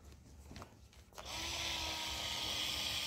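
A cordless drill with a low battery whirs up after a few faint knocks and keeps running steadily at a high, slightly strained pitch, close and fairly loud.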